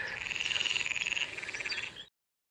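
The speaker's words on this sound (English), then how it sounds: "F for frog." A frog croaks in a rapid, pulsing trill, loud and close, running steadily for about two seconds before stopping abruptly.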